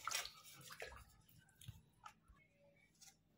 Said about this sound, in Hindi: आलू भी हम धो लेंगे।